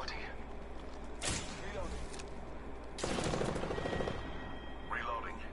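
Bursts of automatic gunfire in the battle royale video game Apex Legends, two loud rattling volleys a couple of seconds apart over a steady game soundscape, with voices talking in between.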